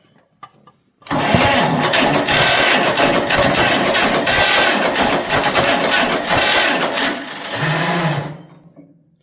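A John Deere A tractor's starter with a faulty drive grinding and whirring loudly for about seven seconds, the pinion gear kicking in and out, close up, then winding down and stopping.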